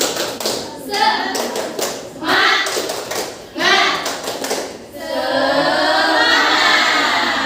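A class claps in quick rhythmic bursts with pauses between, children's voices chanting along, ending in a sustained stretch of applause-like patter.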